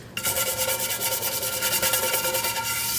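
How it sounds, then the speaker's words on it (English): A stiff bristle brush scrubs leftover red lentil curry from a cooking pot, a steady close rasping rub with quick back-and-forth strokes, no talking. "just scrub out any of the extra food"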